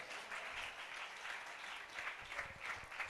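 A church congregation claps together during a meeting led by a bishop, a steady wash of many hands close and continuous, swelling slightly toward the end.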